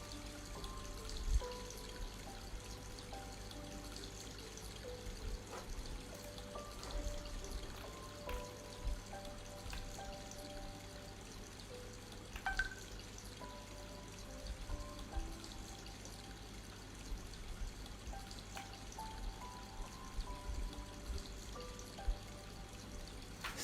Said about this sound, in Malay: Kadang-kadang dia dengar bunyi air hujan lah.